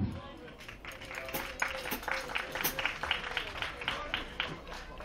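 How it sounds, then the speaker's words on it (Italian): An audience applauding the wind orchestra Naša Sloga from Babići, steady crowd clapping at moderate distance, with someone speaking over it. "ancora un applauso per l'orchestra di Pjati Naša Sloga Babići"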